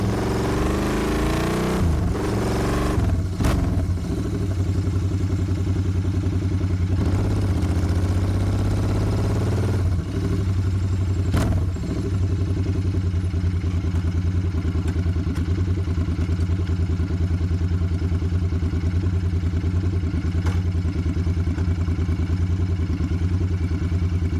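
A Royal Enfield Interceptor 650 Scram motorcycle engine runs at a steady idle, a close, even throb with a few clattering bumps early on and no speech.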